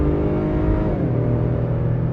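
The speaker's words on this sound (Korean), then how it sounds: "스포츠 모드에서 RPM을 좀 높여서 달려보면" A Honda Pilot's naturally aspirated V6 revs in sport mode, giving a steady, close, loud engine drone with rising harmonics as the RPM climbs, heard alone without talk.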